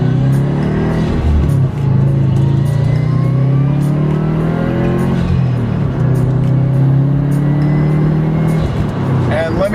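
A 2012 Subaru WRX with a manual clutch pulls onto a road, its engine loud and close with rising and falling revs through gear changes, heard from inside the cabin.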